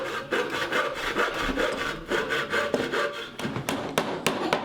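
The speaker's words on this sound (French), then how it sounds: "Le bois faut couper droit alors oui, c'est dur." Hand sawing through wood in straight cuts, a steady rasping back-and-forth rhythm of strokes close by and fairly loud, with sharper knocks near the end.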